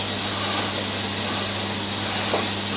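Onion sizzling in a little oil in a hot pan for carne asada, a steady close hiss of frying that holds even throughout, with no voices.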